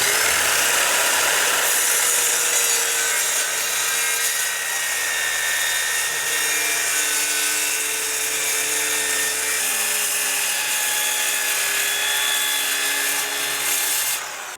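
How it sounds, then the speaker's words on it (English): Circular saw cutting cement board outdoors, a harsh, loud, continuous high whine with a dense gritty edge that holds steady for the whole stretch. "Now you can also use a circular saw"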